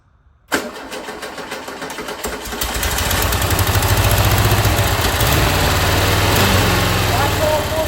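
A rebuilt 1974 VW Westfalia engine cranks, catches and settles into a loud, steady running rumble close by. Voices speak over the engine.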